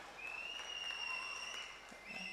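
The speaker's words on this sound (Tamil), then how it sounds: "நல்லா கைத்தட்டுங்க." Audience applause at a Bharatanatyam salangai ceremony, a soft, diffuse and steady patter of many hands heard from a distance, with faint tonal hum and occasional voices in the background.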